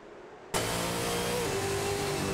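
Simulated race car engines from an AI racing video game, including a Nissan Altima and a Ford Falcon FG X, burst in after a brief quiet start and hold a loud, steady roar with rising revs and no talk.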